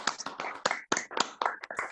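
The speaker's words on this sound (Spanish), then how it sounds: "Abramos nuestros micrófonos a aplaudir" Scattered clapping from an online audience with microphones switched on, a quick string of sharp, uneven claps from several participants overlapping in brief bursts, close and slightly clipped.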